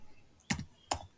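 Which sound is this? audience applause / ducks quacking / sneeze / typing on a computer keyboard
typing on a computer keyboard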